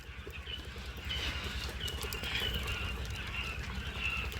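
Female quail chicks about four weeks old, a crowd of small birds giving dense, continuous high chirps and peeps over a steady low background rumble.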